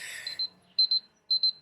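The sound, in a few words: phone alarm reminding to drink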